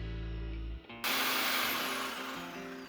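A power tool cuts into a home gym cage, starting with a low motor hum that breaks off, then a sudden loud, bright, grinding whine that holds steady and close for about two seconds, with no voices.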